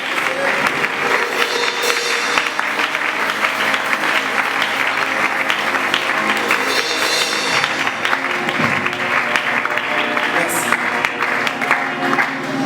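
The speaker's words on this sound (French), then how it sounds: "Prophète, pasteur, est-ce qu'on peut l'applaudir?" Sustained, loud applause from a church assembly, steady and dense throughout with some cheering mixed in.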